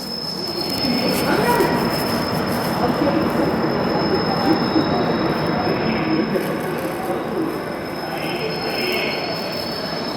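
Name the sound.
Kacheguda–Narkhed Intercity Express train arriving at Badnera Junction platform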